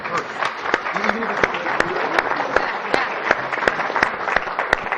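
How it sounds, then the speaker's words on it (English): An audience at a Columbia entrepreneurship event gives a round of applause, dense sustained clapping with sharp individual claps standing out close by, some crowd voices mixed in. "let's give another round of applause for Columbia"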